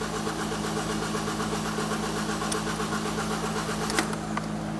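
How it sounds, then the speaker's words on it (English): A 2012–2018 Ford Focus with an empty fuel system cranks steadily and without pause, a continuous mechanical churn heard up close with no voices over it. "we're just going to crank it over a few more times"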